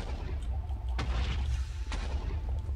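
Two sharp blasts in a Minecraft game, each a sudden broadband boom with a short rumbling tail, spaced about a second apart over a steady low game rumble, with no one talking.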